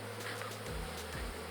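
Honey bees buzz around a beehive in Jamaica in a close, continuous drone whose pitch rises and falls as individual bees pass near.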